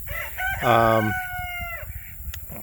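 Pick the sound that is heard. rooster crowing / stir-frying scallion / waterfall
rooster crowing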